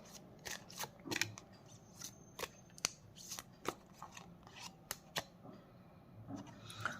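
A tarot deck is shuffled and a card is drawn, giving sharp, irregular snaps and flicks of card stock close by in a quiet room, with no talking.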